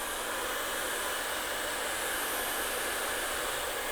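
Gutweed seaweed being dried with a hair dryer, a steady, loud, unbroken blowing hiss that holds evenly from start to finish with no talking.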